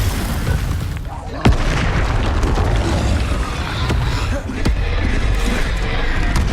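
Incendio fire spell bursts in the video game Hogwarts Legacy, heard as loud, dense booming blasts with sharp cracks over a continuous roaring rumble during combat.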